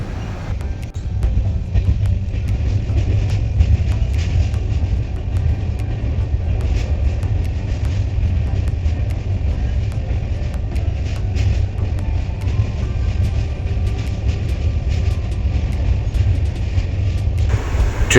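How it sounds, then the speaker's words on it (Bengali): A train runs along the line approaching a station, heard from inside as a loud, steady low rumble and drone with faint rattles throughout. "ট্রেন এখন নৈহাটি স্টেশন ঢুকছে"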